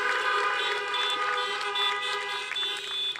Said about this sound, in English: So if we can just do a quick honk or a cheer for them.